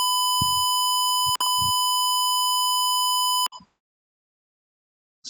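A small buzzer wired to a Raspberry Pi Pico sounds a steady electronic tone for about three seconds, briefly interrupted once, then stops; a few soft clicks and handling knocks occur around it.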